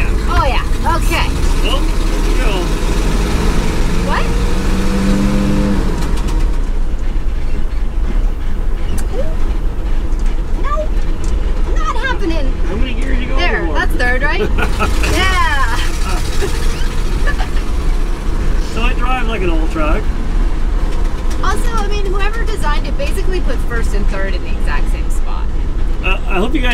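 A 1965 Ford F350 tow truck pulling onto the highway, its engine roaring loud and steady with wind and road rumble as it accelerates, with a voice briefly heard early on.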